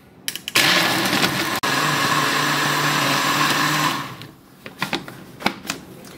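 A kitchen blender whirs loudly and steadily for about three seconds as it grinds eggshells, coffee grounds and carrot peels into homemade fertilizer, then stops, leaving a few faint clicks and handling knocks.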